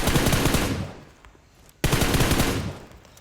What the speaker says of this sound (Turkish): onun için 15-20 mermi sıkıp bırakmak idealdir